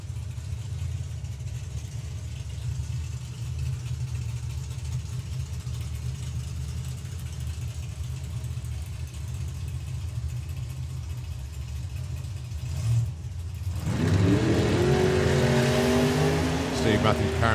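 Drag racing cars, among them a 1957 Chevy, launch at a sportsman nationals event with a steady loud engine roar that suddenly swells into a rising acceleration, under a track announcer's voice.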